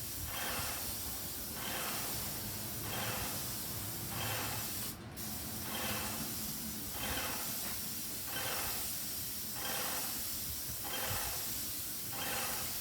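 A mist sprayer pumps out disinfectant mist during a COVID-19 decontamination, a steady broadband hiss lasting throughout, pulsing in regular bursts about once a second, close and loud with no talk.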